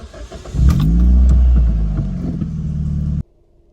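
A high-mileage car with its original engine fires up with a loud rumble, then settles into a steady running drone before cutting off abruptly.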